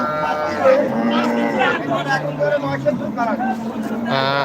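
Cattle low and moo repeatedly at a busy livestock market in Bhangura, with drawn-out bellows close by over a constant babble of people talking.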